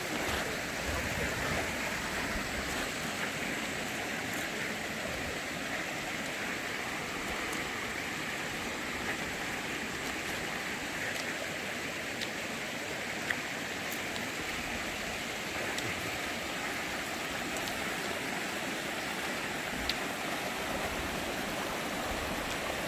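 A mountain stream flows steadily beside pine trees, a continuous broadband rush of water that stays even and unbroken, moderately close with no voices.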